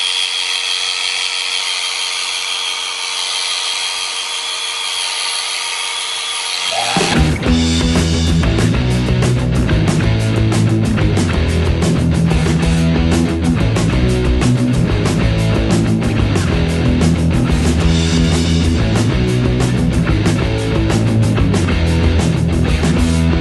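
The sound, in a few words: electric clipper shearing a goat's hair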